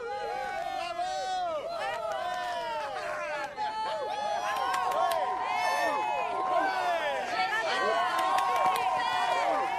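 A lively crowd cheers and claps for a performer at a music event in Mali, with many overlapping excited voices, shouts and scattered claps forming a dense, continuous din.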